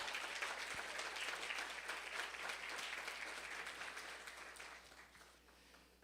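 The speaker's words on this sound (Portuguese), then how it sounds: "Dê um aplauso a Ele nessa noite." A church congregation applauds during an evening service, a dense crackle of many hands clapping that is quite faint and distant, fading gradually toward the end.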